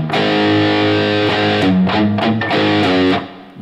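A distorted electric guitar plays a riff at a slow pace. Loud, thick chugging notes and short melodic stabs come up close, with no voice over them, and the sound trails off at the end.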